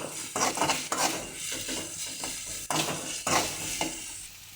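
Onions frying in a pan until brown, stirred with a utensil: repeated scraping strokes and clinks of metal on the pan over a steady close sizzle, no speech.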